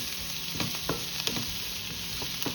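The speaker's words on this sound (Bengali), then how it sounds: "একটু ভালো করে ভাজা ভাজা করে নিই" Prawns sizzle steadily in a hot pan, with occasional scraping and stirring clicks cutting through the constant frying hiss.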